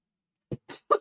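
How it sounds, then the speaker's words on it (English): A man coughs three short, separate times, fairly quiet and close, with brief pauses between and no talking. "I'm gonna have to cough my brains out."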